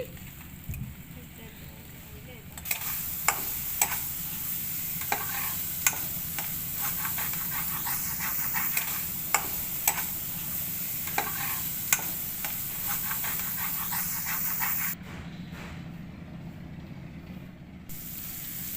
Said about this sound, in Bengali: আমি এখন দিলাম পেঁয়াজ কুচি তো পেঁয়াজটাকে একটু বাদামি হালকা বাদামি করে ভেজে নিচ্ছি